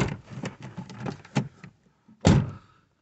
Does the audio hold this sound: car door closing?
yes